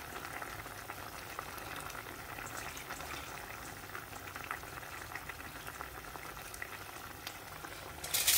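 Koi fish simmering in a Sylheti-style curry with rujot leaves and curry leaves, a steady bubbling boil with soft sizzling throughout, fairly quiet and even, with a brief louder clatter at the very end.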